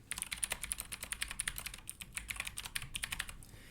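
Rapid, steady typing on a computer keyboard while an announcement is entered on a club website form, with close, crisp key clicks in quick irregular bursts and no talking.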